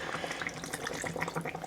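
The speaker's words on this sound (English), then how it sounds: "I'm going to add some water from this remaining curry paste." Water is poured into a pan of simmering chicken curry, a close, dense splashing and sizzling wash that runs continuously for the whole moment.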